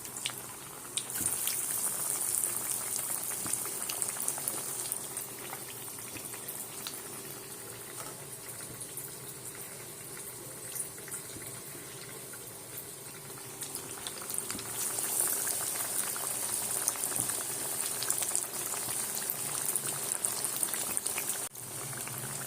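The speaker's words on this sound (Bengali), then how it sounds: "দেখো চপগুলোকে এইভাবে সুন্দর করে ভেজে নেব।" Breaded fish chops, dipped in egg and biscuit crumbs, fry in hot oil with a continuous bubbling, crackling hiss that stays steady throughout and ends with a faint utensil tap.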